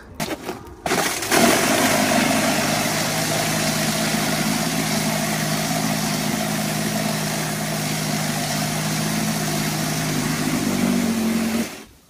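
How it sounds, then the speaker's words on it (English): Toro cordless electric battery power shovel clearing snow, a steady loud motor whir that starts after a second, runs continuously, then cuts off at the end. "With my power shovel, I can just do a quick job of cleaning this off"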